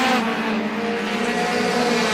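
Race cars speed down the front straightaway at a local speedway in a Roadrunner feature race, a steady loud engine roar with no letup.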